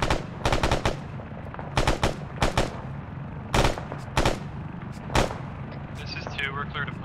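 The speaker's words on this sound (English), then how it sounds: "We're starting to take fire." Gunfire and artillery in the military shooter ARMA 3: sharp bursts of rapid shots and heavy booms come in repeated clusters over a low rumbling background, with voices talking faintly beneath.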